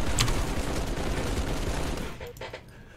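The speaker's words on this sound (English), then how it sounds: "Blinky, you and your turrets!" Turret fire in the Halo video game: a dense, sustained burst of rapid automatic shots with booming impacts, loud and continuous before tapering off near the end, with no talk over it.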